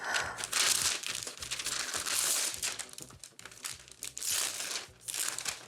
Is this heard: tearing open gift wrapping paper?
yes